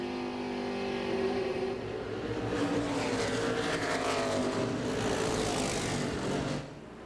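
Loud, steady roar of racing engines at the 2001 New England 300 race, droning at high revs, with pitch shifting slightly as cars pass, continuous throughout before dropping off near the end.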